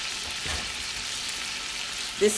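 Steak frying in a pan while butter is basted over it, giving a steady close hiss and crackle throughout and a brief louder clink near the end.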